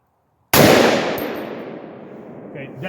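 A single loud gunshot from a Palmetto AR-10 rifle firing 150 gr Freedom Munitions .308, gas setting 2 of 17, a sharp close crack whose echo decays over about two seconds, with a faint metallic clink after.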